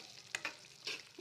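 Spice powders fry over low heat in a wok of oil, a faint sizzle broken by a few quick scraping stirs of a spoon against the pan.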